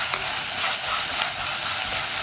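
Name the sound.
stirring onion, ginger and curry leaves sautéing in pan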